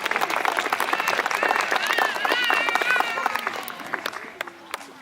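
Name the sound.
concert audience applause for the sound engineers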